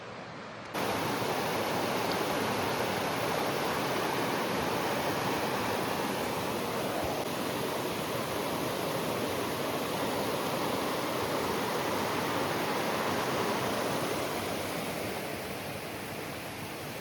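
Waterfall and stream at Virgin Falls, Tennessee, roaring as a steady, dense wash of falling water close by, with no break across the whole stretch.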